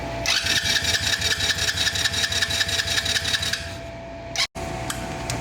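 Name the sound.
Kayo 60cc bike engine running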